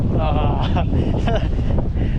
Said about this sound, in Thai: ลมแรงมากครับ